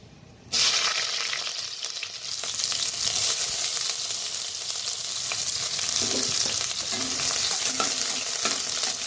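Chopped onion and black cumin hit hot mustard oil with a sudden loud sizzle, which then settles into a dense, steady frying hiss with a few stirring scrapes, heard up close.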